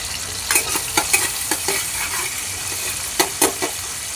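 Ginger-garlic paste frying in a pan for samosa filling, with a steady close sizzle and a few sharp scrapes and taps of a spoon as it is stirred; no voices.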